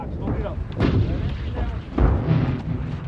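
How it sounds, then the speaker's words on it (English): American artillery fires during the Gulf War, heavy booms at about one-second intervals rolling over continuous low rumble, loud and close, with voices faintly mixed in. "When I finally got artillery fire, it was the best feeling in the world."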